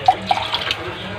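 Water is poured briefly into a cooking pot for a milkfish (bangus) dish, giving a short, close splash and trickle followed by faint dripping.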